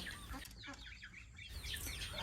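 Island-bred chickens cluck and chirp in a coop at a Thai farm, soft and fairly close over steady outdoor background noise.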